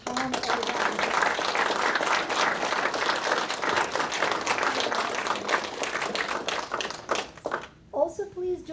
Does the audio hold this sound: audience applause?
yes